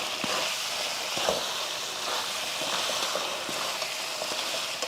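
Chicken varuval masala fries in a pan while being stirred, giving a steady close sizzle with soft scraping and occasional light knocks throughout, without talk.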